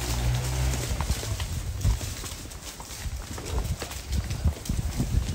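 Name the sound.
cow walking along, hooves clopping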